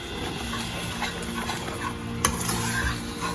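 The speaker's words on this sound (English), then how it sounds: "make sure you keep on stirring it so that there is no lumps" A creamy spinach and cheese sauce stirred in a pan: continuous soft scraping and bubbling sizzle up close, with a sharp utensil knock near the end and no voices.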